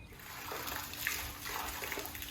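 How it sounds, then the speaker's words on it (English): Water runs from a hose into a backyard pool as a faint, steady hiss and splash. "He's filling the pool with water, playing with the pipe"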